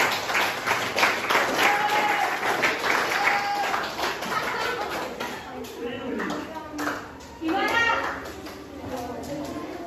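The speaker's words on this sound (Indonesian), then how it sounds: "Tepuk tangan dulu." A group claps together in a burst of applause that trails off as children's voices chatter and call out.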